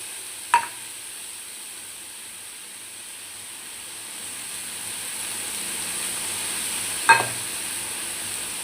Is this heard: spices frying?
yes